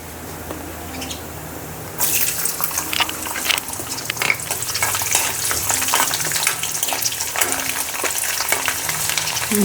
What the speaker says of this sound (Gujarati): લસણની કળી બધી તળાઈ ગઈ છે